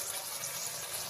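Steady broadband rush of water pouring from a tap, constant and fairly close, with no voices.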